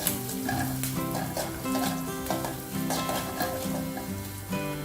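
Crushed garlic and crushed chilli fry in hot oil in a pan with a steady, dense, loud sizzle that continues throughout, with no talking.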